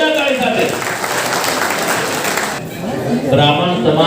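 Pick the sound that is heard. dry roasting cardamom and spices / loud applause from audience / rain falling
loud applause from audience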